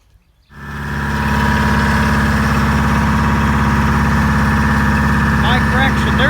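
John Deere 6600 combine engine at wheat harvest starts up after a brief quiet moment, then settles into a loud, steady, close idling rumble with a constant vibration.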